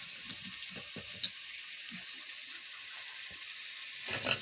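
Washed eggplant and potato pieces go into frying masala, giving a quiet, steady sizzle with small clinks and stirring knocks close by.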